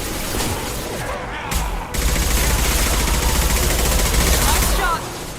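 Dense gunfire from the video game Mass Effect Legendary Edition, a continuous rattle of rapid shots and booms that swells louder after a brief dip, with a voice talking over the action.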